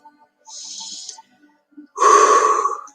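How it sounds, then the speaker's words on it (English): A deep guided breath, drawn in through the nose and blown out through the mouth during a calm meditation. A soft airy inhale is followed by a louder, fuller exhale, close up with no talking. "Breathing in through your nose and blowing out through your mouth."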